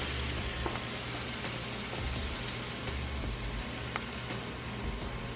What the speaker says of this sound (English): And a splash of pasta water.